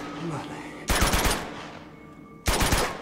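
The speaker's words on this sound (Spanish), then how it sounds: "Disparos." Two short, loud bursts of automatic gunfire in the action game Uncharted 2 sound about a second and a half apart over quieter game ambience, with some speech underneath.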